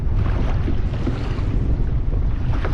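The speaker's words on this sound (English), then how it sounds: "Gust, winds," Strong, gusty wind roars steadily across the microphone at Huntington Beach harbor around noon, a loud continuous rumble with choppy water and boat noise beneath it and no talking.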